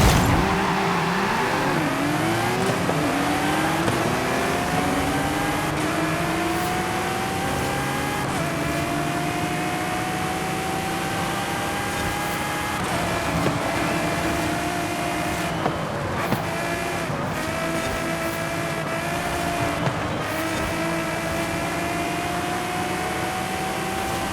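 Race cars in Forza Horizon 5 roar continuously, engine pitch rising and dropping through gear changes and repeated acceleration, with layered motors from other cars and brief tire noise, loud and without talk.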